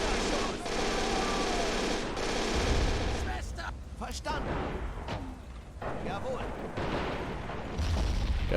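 Gunfire and machine-gun bursts rattle in a World War II battle in the Men of War: Assault Squad game, with dense, sustained, loud volleys and booms throughout.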